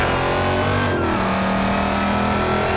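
A Hellcat-swapped Dodge Charger SRT8 roars loudly in the BeamNG Drive racing game, its engine note dipping briefly and then holding a steady high-revving drone at speed with no voices.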